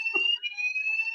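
A fire alarm in a sheltered housing building for older people sounds a loud, continuous high-pitched electronic tone, briefly broken by a short burst of muffled noise near the start.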